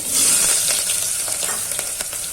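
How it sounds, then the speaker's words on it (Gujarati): Potato pieces fry in hot oil with asafoetida, chilli and curry leaves for tempering, a loud close sizzle and crackle that runs continuously, with faint stirring scrapes. "હવે પેલા આપણે બટેકું વઘારવાનું છે."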